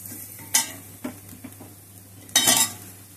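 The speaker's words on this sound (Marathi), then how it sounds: "चवीपुरतं मीठ, गरम मसाला मिक्स करूया" Salt, red chilli powder and garam masala stirred into a frying mixture for a sandwich filling, a few distinct scraping spoon strokes against the pan over a low sizzle, with one longer scrape near the end.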